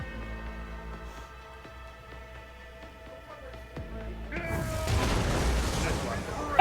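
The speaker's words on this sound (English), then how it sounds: "And the explosion didn't even hurt him!" A barrel explodes in Warhammer 40,000: Rogue Trader, a loud rumbling blast that breaks out after a stretch of quiet mechanical clicks and swells near the end.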